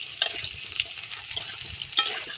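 Potatoes frying and being stirred in a pan, a soft sizzle with scraping stir strokes recurring every half second or so, close and steady, no voices.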